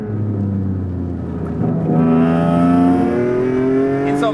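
An Alfa Romeo 147 GTA engine breathing through an upgraded exhaust holds a loud, steady note, then revs up and climbs in pitch partway through, with no talking.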